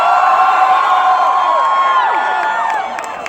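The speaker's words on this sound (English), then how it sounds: "This is a great crowd. It is a loud crowd." A loud political rally crowd cheers nonstop, a dense roar of whoops and high shouts from many voices that holds strong and eases off slightly at the end.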